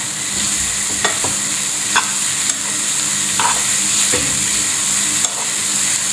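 Kerala-style mushroom thoran fries in a pan under a steady loud sizzle, broken by a few soft scraping strokes of a spoon stirring at irregular intervals, with no voices.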